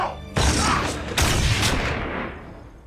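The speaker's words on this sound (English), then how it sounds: "You shot me." Two sharp, loud gunshots in a scene from the Firefly TV series episode "The Message", less than a second apart, each ringing out with a booming tail and no talking over them.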